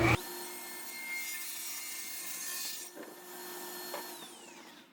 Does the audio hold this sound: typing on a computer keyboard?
no